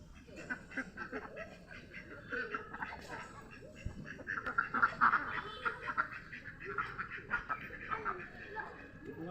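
Ducks quack repeatedly in scattered bursts at moderate distance, mixed with background chatter and outdoor ambience.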